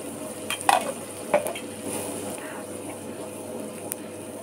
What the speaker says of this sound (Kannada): ಈಗ ನೋಡಿ ಮಸಾಲೆನ ಈ ಥರ ಡ್ರೈ ಮಾಡಿಕೊಂಡೆ